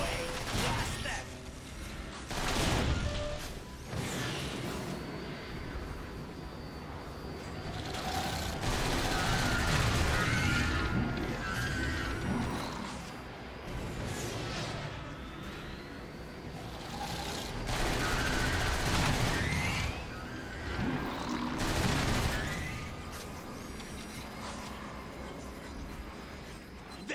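Gunfire from a space station's automated defenses in Transformers: War for Cybertron, bursts of shots and mechanical noise throughout a long firefight, with voices talking over the action.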